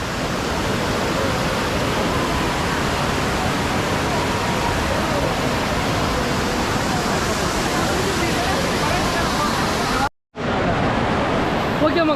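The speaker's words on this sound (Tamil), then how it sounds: "தண்ணி அவ்வளோ கொட்டுதுங்க." Kutralam waterfall in Tenkasi roars as a dense, steady rush of falling water, loud and close, with a faint babble of voices beneath and one brief dropout near the end.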